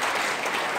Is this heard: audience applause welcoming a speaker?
yes